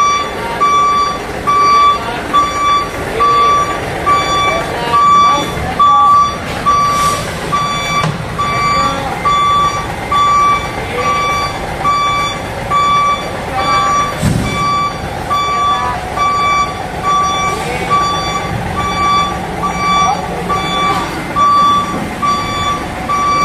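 A truck reverses while its backup alarm beeps in a steady, evenly spaced rhythm for over twenty seconds, loud and close, over a low engine rumble with occasional hiss and clunks.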